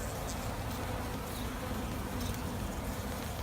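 Honey bees buzz around an opened hive as frames are lifted out, a dense, steady droning hum that stays loud and close with no talking.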